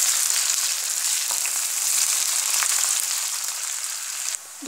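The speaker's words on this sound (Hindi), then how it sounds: "अब हम डालेंगे इसमें प्याज। प्याज को जब तक भूनेंगे जब तक थोड़ा सा हल्की सी ब्राउन ना हो जाए" Onions sizzle and fry steadily in a pan over browned garlic for an urad dal and radish dish, a dense close crackle holding throughout with faint stirring scrapes and a brief dip near the end.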